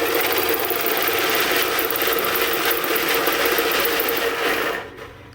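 A faulty portable air conditioner's fan motor running with a steady, loud mechanical whir and rattle, close up, before it cuts off abruptly near the end.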